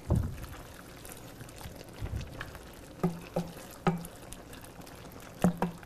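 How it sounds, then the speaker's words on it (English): Orecchiette pasta being stirred in a pan, with a few sharp scraping knocks of the utensil against the pan coming in a loose rhythm over a low background. "Gonna stir it up."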